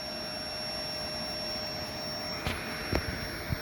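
A bee vacuum running while collecting straggler bees during a beehive relocation, a steady loud motor whine with a constant tone, a few brief knocks near the end.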